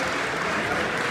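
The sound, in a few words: audience applause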